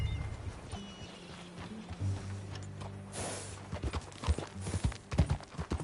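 Horse hooves clip-clopping in the video game Red Dead Redemption 2, a rhythm that starts faint amid low ambient hum and grows into louder, closer irregular hoof thuds toward the end.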